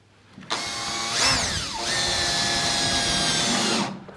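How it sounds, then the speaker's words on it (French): A power screwdriver drives screws into a thick wooden plateau build, one continuous whirring run of about three seconds with a pitch sweep near the start, loud and close, with no talk. "Je positionne. Bien à ras des extrémités et on commence à visser"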